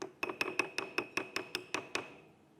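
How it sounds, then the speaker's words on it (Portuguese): A small wooden cup is tapped ten times in a steady, fairly fast rhythm. The knocks are short, dry and hollow with little ring, close and alone. "E, por último, o copinho de madeira."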